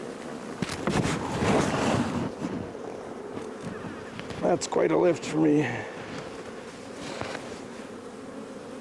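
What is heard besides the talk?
honey bees buzzing around an opened hive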